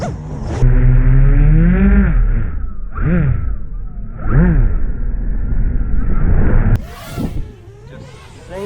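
An FPV quadcopter drone's motors after Betaflight tuning, spinning up in a few sharp rising-and-falling revs with a whining tone, loud and close.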